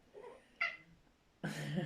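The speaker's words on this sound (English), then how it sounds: "Yeah, that's a cat" A pet cat named Bisa meows indoors, a faint short call followed by a louder, longer meow close to the listener, with no talking.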